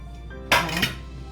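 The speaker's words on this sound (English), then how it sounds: "now I'm going to take a chopping board here" A chopping board is set down on a kitchen counter with a single sharp wooden clatter and brief rattle, close and loud against a quiet room.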